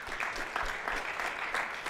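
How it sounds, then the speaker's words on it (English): An audience at a jazz festival concert applauds the horn section of a college jazz ensemble, steady dense clapping at moderate distance that continues for the whole short stretch. "Give it up for the horns."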